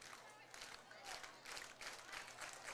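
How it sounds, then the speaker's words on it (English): Crowd noise at a high school football game, with a student section cheering in steady swells and bursts of clapping throughout; the roar stays fairly distant and broad, without clear individual voices standing out. "Hear the crowd getting into it."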